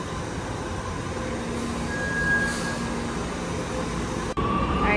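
Rail station ambience as a train approaches the platform, with a steady low rumble and a faint high squeal of wheels or brakes building over several seconds, then a brief drop and a clearer tone near the end.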